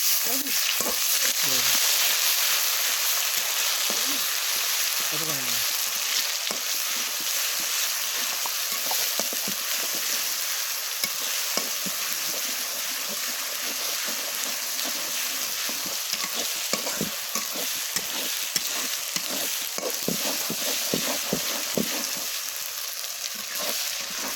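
Ginger and garlic fry in hot oil in a pan, a loud, continuous close sizzle with scattered stirring clinks and a few brief voices at the start.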